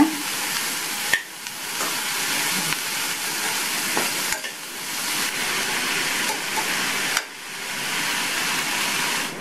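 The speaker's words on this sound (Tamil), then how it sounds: "இந்த புடலங்காயை எண்ணெயிலேயே ஒரு 2 நிமிஷத்துக்கு வதக்கி விட்டுக்கோங்க" Sliced snake gourd sautéing in hot oil gives a steady, loud sizzle with stirring scrapes throughout and a few sharper clinks of the spoon against the pan.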